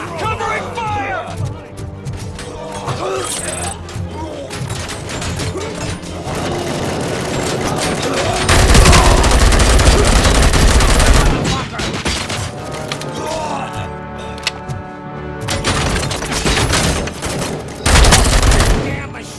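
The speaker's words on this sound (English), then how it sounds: "Covering fire!" Sustained gunfire fills a Robocop Rogue City firefight on PlayStation 5, dense loud bursts and volleys with crashes and shattering, while shouted voices cut in and out over the shooting.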